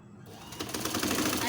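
A sewing machine stitching the sleeve of a baby's nightie starts up after a brief quiet moment, then runs in a fast, even mechanical clatter at close range.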